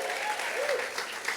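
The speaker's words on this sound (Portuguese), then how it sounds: "Você pode aplaudir o nosso Deus" Church congregation applauding, a dense steady wash of clapping from many hands with a voice briefly heard over it, short and fairly distant.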